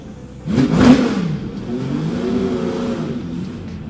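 A Porsche Le Mans race car engine gives a sharp, loud rev, then settles into a sustained, throaty roar that slowly eases off, with no talking.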